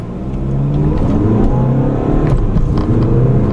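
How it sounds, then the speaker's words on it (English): A 2015 VW Golf TDI diesel pulls away from a stoplight, its engine note rising and dropping as it accelerates through the gears, heard close from inside the car. "the bottom end torque, you really get a good takeoff from a stoplight."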